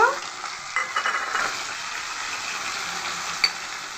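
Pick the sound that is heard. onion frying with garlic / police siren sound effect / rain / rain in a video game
onion frying with garlic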